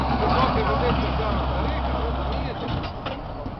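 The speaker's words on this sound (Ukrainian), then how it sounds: "Знімай, знімай трактор робить." A tractor engine runs steadily nearby with a loud low rumble throughout, while people talk over it.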